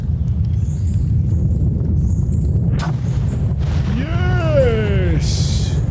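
A low, steady rumble fills the whole stretch in Minecraft on Peaceful mode, with a brief sharp burst midway and rising warbling tones near the end.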